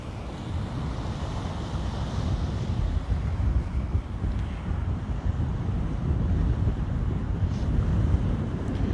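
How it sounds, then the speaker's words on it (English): Continuous low rumble of high surf at Lanikai Beach, Hawaii, and wind buffeting the microphone, waves washing in steadily with no voices. "as you can see the surf is up too high"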